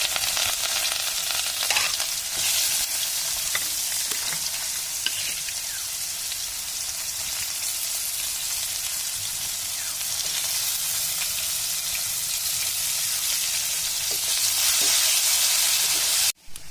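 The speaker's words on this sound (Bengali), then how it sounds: "পেঁয়াজ ভাজা হয়ে গেছে।" Chopped onions fry in hot oil tempered with cumin seeds and dried red chili, giving a steady, loud, close sizzle with faint stirring scrapes that runs unbroken throughout without any talking.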